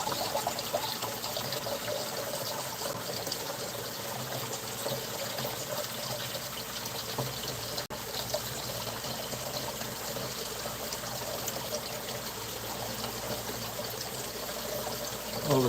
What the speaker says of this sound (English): I'll just pour water right over that